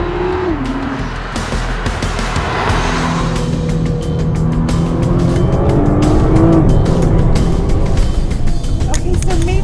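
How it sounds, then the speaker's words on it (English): 2013 Nissan GT-R driven hard on very twisty roads, a loud, close engine drone from inside the car rising and falling through gear changes, with faint tire squeal and a voice speaking under it. "This is one of the most capable production cars in the world, and we're on some of the twistiest roads in the world."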